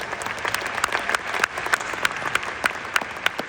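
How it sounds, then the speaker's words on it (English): Audience applause at a Lenovo keynote during CES 2026, a sparse, rhythmic clapping with individual sharp claps standing out at a steady beat, moderately loud and without speech. "shall we clap hands for Wei"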